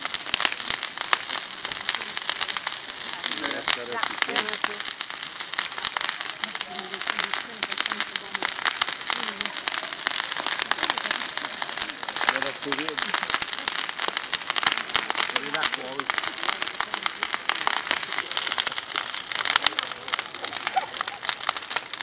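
A festival bonfire for the feast of San Giuseppe in Paternò crackles and snaps steadily and close for the whole stretch, a dense continuous hiss of popping embers with faint voices murmuring underneath.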